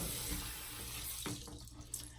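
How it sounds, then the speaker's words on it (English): Tap water runs steadily into a bathroom sink and is splashed onto a face, a continuous close hiss with small splashy bursts near the end and no talking. "So I just get some water and pat around my face."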